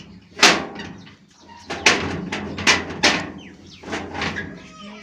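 A door in a family home is pushed and shut, giving a series of loud wooden bangs and rattling thuds in an uneven rhythm, close by, with no talk.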